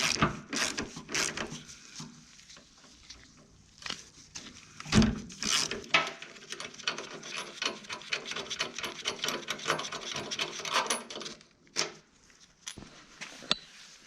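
A hand ratchet loosens 8mm bolts holding a motorcycle gas tank, giving quick runs of close, dry clicking with short pauses and a few louder knocks, no voices.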